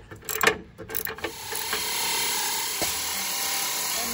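An 18 mm socket wrench backs bolts out of a Jeep Gladiator JT bumper during a winch install, with quick ratcheting clicks at first, then a steady mechanical whirring drone up close.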